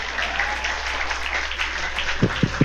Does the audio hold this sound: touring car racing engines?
no